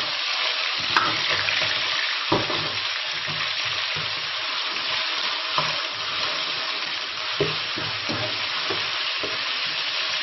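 Beef stir-frying over medium-low heat in a wok for spicy beef sauce, the moisture cooking off: continuous loud frying hiss with occasional spatula scrapes and knocks at irregular intervals, close and unbroken by talk.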